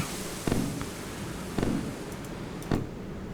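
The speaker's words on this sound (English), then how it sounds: "Missiles and 5-inch gun shooting at it." Missiles and a 5-inch naval gun fire in the Sea Power naval combat game: three sharp, booming shots at roughly one-second intervals, each followed by a short rumbling tail over a steady background.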